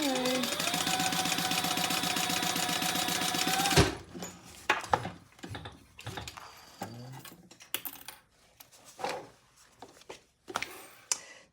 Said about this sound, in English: we are going to stitch across the top